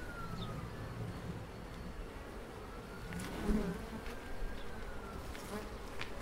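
Honey bees buzzing around an opened, smoked hive, a steady close swarm drone with individual bees whizzing past the listener.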